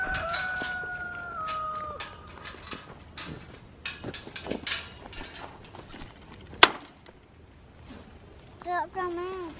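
Backyard chickens in a flock, with a rooster crowing in long drawn-out calls and hens clucking in short bursts, close by, while children and adults talk over them.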